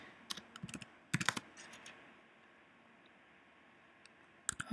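Computer keyboard typing while customizing an After Effects wedding slideshow template: scattered quick clicks and short bursts of keystrokes, fairly close and quiet, with no talk.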